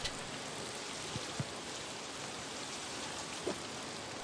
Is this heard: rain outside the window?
yes